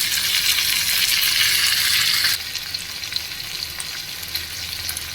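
Mashed pointed gourd (potol) fries with onions in hot oil, giving a loud, dense sizzle that drops suddenly partway through, leaving a quieter steady crackle, with no talking.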